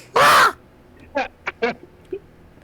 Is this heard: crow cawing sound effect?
yes